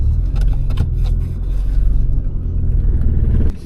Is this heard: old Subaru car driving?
yes